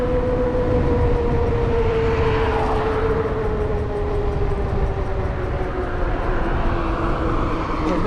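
An RC stealth bomber clone airplane, an F37 modified for range and speed, flies past with a steady electric motor whine that slowly shifts in pitch, holding loud and continuous with wind noise.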